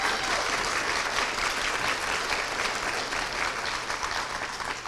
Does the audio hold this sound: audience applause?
yes